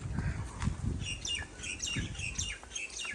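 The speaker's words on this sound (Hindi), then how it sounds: "परिंदों की चहचहाती हुई आवाज़ें।" Many small birds chirp and tweet in quick overlapping calls around a quiet mango orchard path, with a low rumble of wind or distant noise beneath.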